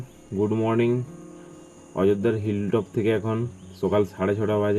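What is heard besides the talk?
crickets chirping and birds calling in forest at dawn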